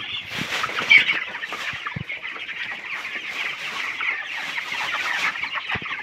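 Twenty-day-old broiler chickens in a winter poultry shed, a dense, continuous chorus of clucks and chirps from many birds close by, with no talking.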